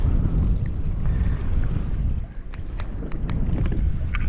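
Steady wind buffeting the microphone while inshore fishing from a boat near grass lines in Charleston, South Carolina, a loud continuous low rumble with faint water noise, no talking.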